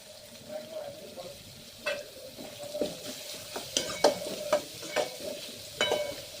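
Two or three chopped onions go into hot oil for a soya chunk curry, giving a quiet, steady sizzle broken by sharp spatula scrapes and clinks against the pan.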